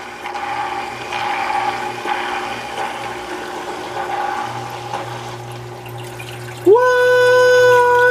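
A Marineland 350 aquarium filter starts up after being put back in: a steady watery gurgle and hum, then a sudden rise in pitch as the motor catches and settles into a loud, constant whine.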